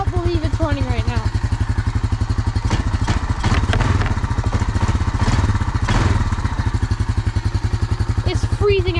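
A Honda Rancher ATV engine, running after sitting abandoned for six years, idles loudly and close in freezing weather, its rapid, even putter running throughout with some clattering and a brief revving swell midway.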